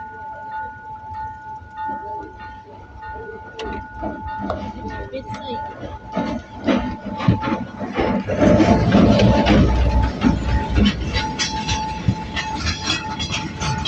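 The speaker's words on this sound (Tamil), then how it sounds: "பாருங்க, ட்ரெயின் வருது." A train approaches and rolls across a bridge, its rumble and rail clatter swelling louder and closer toward the end, with a steady tonal hum and someone talking over it.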